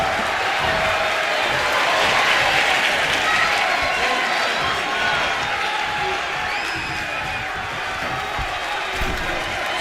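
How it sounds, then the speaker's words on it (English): Loud, sustained applause and cheering from an arena crowd in a WWE wrestling video game, a dense roar of clapping that swells slightly and stays steady for the whole stretch, without commentary. "this crowd is on their feet in full appreciation"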